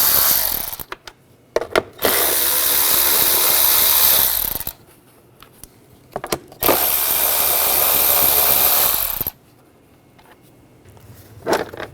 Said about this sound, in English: We're going to remove this cover, use a 10mm socket.